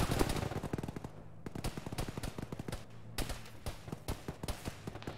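Rapid automatic gunfire from an enemy bunker in the military game Arma, fairly distant, with bursts of closely spaced shots continuing steadily throughout.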